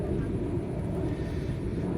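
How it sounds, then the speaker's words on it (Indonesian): An airplane drones continuously overhead as a steady low rumble with no change over the whole stretch, and no one speaks over it. "Ya, ada suara pesawat."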